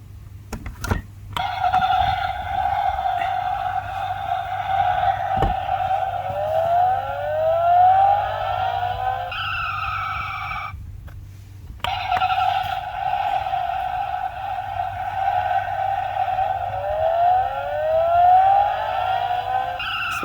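A 1/18 scale 1989 Batmobile model plays its electronic siren effect, a loud wailing, rising and repeating tone that cuts out briefly and then resumes, close by with no talk.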